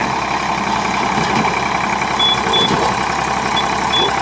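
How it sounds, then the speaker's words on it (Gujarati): A tractor engine runs steadily nearby, a loud constant rumbling drone with faint intermittent beeps in the background, while a Bolero vehicle is stuck nearby. "જોઈ શકો ટ્રેક્ટર ચાલુ થયો"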